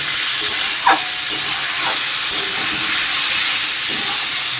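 Paneer, potato and tomato curry fries in a pan with cumin seeds and bay leaf, a loud continuous sizzle with a few spoon stirs scraping through it, close up and without speech.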